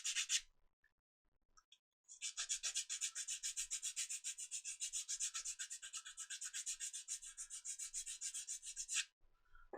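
A file rasps steadily across a model aircraft fuselage part to put a bevel on the top edge, with a long run of even, rhythmic back-and-forth strokes heard close and alone after a brief stroke and a pause.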